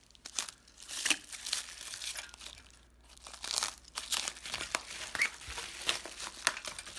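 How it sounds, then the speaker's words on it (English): Tape is slit and bubble wrap is peeled off a bike handlebar, making close, quiet crinkling and tearing rustles in irregular bursts through the whole stretch. "all you have to do is just slice the tape, and the whole thing just comes right off"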